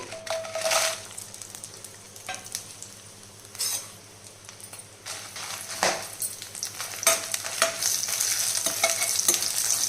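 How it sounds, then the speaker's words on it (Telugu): Dried red chillies fry in hot oil in a kadai, with a soft continuous sizzle beneath intermittent scraping and clinking strokes of a spoon or ladle stirring against the metal pan. "ఇప్పుడు ఎండుమిర్చి వేయించుకోవాలండి"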